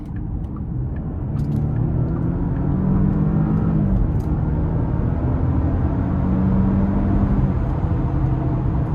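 Steady, deep engine rumble comes from inside a 2024 Porsche Cayenne with the Premium Package Plus as it pulls hard under acceleration, holding a loud, continuous drone throughout.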